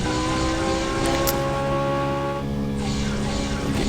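Ferrari 458 Italia engine in a racing video game, revving loud and steady at high pitch after a nitro boost, with a brief hissing burst near the start.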